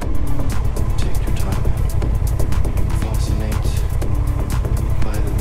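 A 2024 Honda XL750 Transalp motorcycle under way, its engine a steady loud drone with constant rumble and wind noise and no break, the rider heard only indistinctly.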